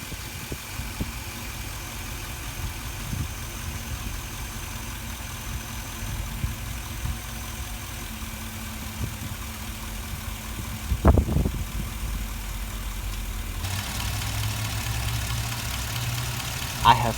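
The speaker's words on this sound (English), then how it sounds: "I have found the source of the ticking. So here's the conclusion. We think it's the lifter in this rear cylinder on the passenger side." A car engine idles with a lifter ticking in the rear passenger-side cylinder, heard close as through a mechanic's stethoscope: a steady low rumble with faint regular ticks and one louder knock partway through.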